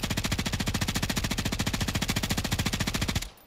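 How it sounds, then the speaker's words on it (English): Bruen rifle fired full-auto in a video game shooting range while aiming down sight: a rapid, steady stream of about forty loud, evenly spaced shots over three seconds, cutting off abruptly into a brief fading tail. "let's take a look at the recoil in the shooting range"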